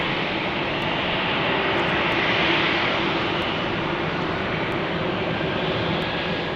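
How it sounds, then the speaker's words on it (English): KC-135 aircraft of the Utah Air National Guard at Salt Lake City airport give off a steady, loud broadband jet roar that holds evenly throughout, with faint ticks over the top. "So there we have some KC-135s from the Utah Air National Guard."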